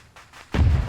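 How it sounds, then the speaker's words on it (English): A heavy artillery shell lands in a World War II North Africa tank battle near a German Panzer, a dull distant thud after faint rumbling, then a loud close boom that rolls on briefly. "Artillery landing near a Panzer, they're in tank battle right now."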